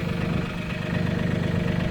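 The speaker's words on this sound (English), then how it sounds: "since I got the tractor running" A Mahindra tractor engine idles steadily at close range, a low, even chugging rumble with no talk.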